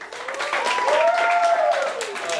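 A stand-up comedy audience breaks into a round of clapping that holds steady and fairly loud for a couple of seconds, with a sustained whistle or cheer rising over the applause in the middle.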